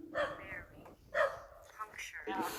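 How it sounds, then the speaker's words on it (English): A dog barks in a cemetery at night, sharp yelps standing out over and between a person's startled talking and breathing, fairly close and loud. "I just heard bark."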